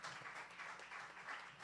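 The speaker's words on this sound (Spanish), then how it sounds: "Démosle un fuerte aplauso." Audience at a talk on digital violence against women and girls giving a brief round of applause, a faint, distant patter of many hands clapping steadily with no voices.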